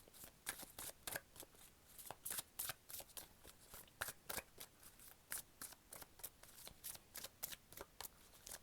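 Angel oracle cards are shuffled and drawn in a quick run of crisp riffling snaps and flicks, close and fairly quiet, with no talking.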